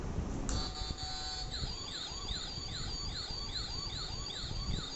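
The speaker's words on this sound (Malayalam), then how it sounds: "പിന്നെ അടുത്തതൊരു കാറാണ് കേട്ടോ, ഒരു പോലീസ് വണ്ടി. സോ സൗണ്ട് ഞാൻ കേൾപ്പിച്ചു തരാം കേട്ടോ." A toy police car siren wails in repeated rising-and-falling electronic sweeps, loud and steady, after a brief click as it switches on, with no voices over it.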